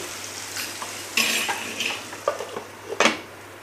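A lid is handled and set on a pan of bottle gourd pieces cooking in oil: a few sharp metallic clanks and scrapes, close and fairly loud, over a faint low sizzle.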